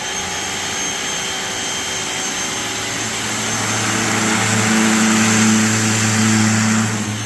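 A Craftsman 1900 PSI electric power washer sprays through its spinning turbo nozzle, a steady loud hissing roar with a motor hum that swells slightly toward the end, alone without talk.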